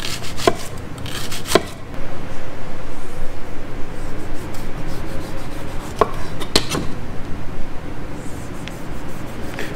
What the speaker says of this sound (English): we're just gonna cut some onion rings